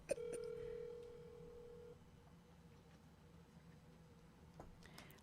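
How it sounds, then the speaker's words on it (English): A telephone rings on the line while a call is being placed, with a steady electronic tone for about two seconds after a brief click, followed by quieter line hiss and faint clicks. "I'm calling you right now."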